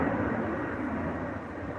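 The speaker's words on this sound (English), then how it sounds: "Just wait for the plane to pass by." A plane passes overhead, making a steady, broad roar that fills the whole short stretch at a fairly loud, even level, with no talking over it.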